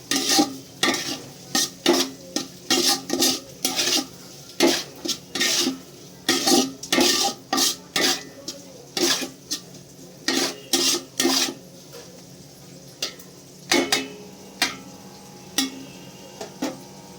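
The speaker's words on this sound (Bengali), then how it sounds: "নুনটা দিয়ে ভালো করে আমি মিক্স করে নেবো সবজিগুলোকে।" Vegetables tossed with salt in a pan for veg fried rice, with a quick, steady series of scraping and clattering spatula strokes over a light sizzle, close and fairly loud.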